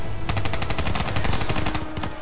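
Rapid automatic gunfire rattles from a gun in the video game Call of Duty Black Ops III, a fast continuous burst of sharp shots lasting about two seconds, loud and close.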